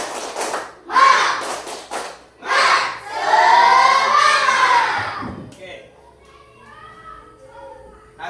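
A classroom of students does the rhythmic 'tepuk semangat' clapping ice breaker, chanting and shouting in bursts with patterned claps, loud and close, then settling into quieter murmuring.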